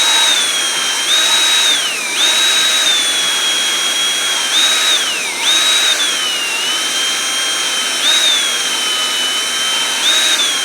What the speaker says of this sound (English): I think the drill method does work pretty good, especially on the intake side